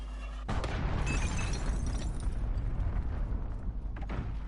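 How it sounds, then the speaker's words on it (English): An enemy cruise missile strike in a video game hits with a sudden heavy boom after half a second, then a loud rumbling roar that slowly fades over the next four seconds, with no voices. "Enemy cruise missile incoming. Take cover."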